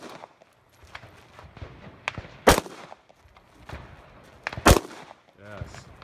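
Gunshots from a handgun at a close contact and intermediate distance shooting class, two sharp, loud cracks a couple of seconds apart over outdoor range background, with an instructor's voice heard faintly.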